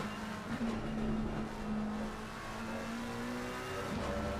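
A GT3 race car engine in Assetto Corsa Competizione drones steadily at high revs through a corner, held in one gear with a slight dip and swell in pitch, loud and close with no voices.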